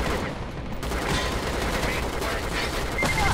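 Rapid, sustained automatic fire from a penguin gun in a shooting video game, a dense, loud rattle of bursts running almost without pause throughout.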